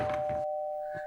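A doorbell rings with a single clear electronic tone that holds steadily, while brief muffled thumps sound at the start and again near the end.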